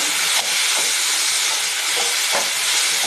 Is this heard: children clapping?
no